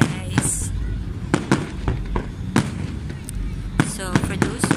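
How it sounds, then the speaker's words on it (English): Fireworks at an international pyrotechnic festival in Cannes, France burst in repeated sharp booms and crackles at irregular intervals, moderately distant, over a steady crowd murmur with people talking. "I will give you a short clips of this fireworks"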